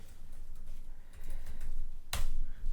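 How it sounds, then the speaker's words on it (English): Typing on a computer keyboard, a quiet close run of soft key clicks at an uneven pace, ending with one sharper tap. "Let's type"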